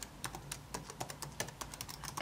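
Fingers tap quickly on a computer keyboard while an email address is entered at a login screen, producing a rapid, irregular patter of soft clicks, close and quiet, with no voices.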